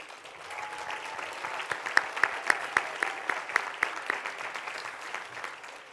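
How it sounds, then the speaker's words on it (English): Audience applause in an auditorium at a hospitality school's closing ceremony, a sustained crowd patter with several sharper, louder claps standing out near the middle before it eases off. "a big round of applause to our audience today that have also endured the ceremony"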